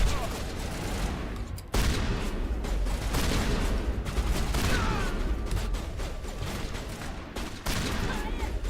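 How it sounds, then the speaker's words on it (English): Bursts of shotgun fire in the video game Mass Effect, loud overlapping blasts with a sharp break near the start and another near the end, set within busy combat noise. "I will equip the shotgun."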